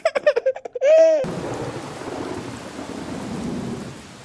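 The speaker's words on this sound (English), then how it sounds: "Because it's raining." After a brief burst of a child's laughter, a steady downpour of rain begins with a low rumble of thunder underneath, continuing evenly.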